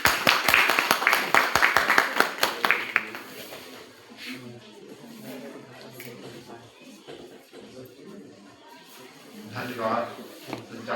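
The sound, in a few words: audience applause and clapping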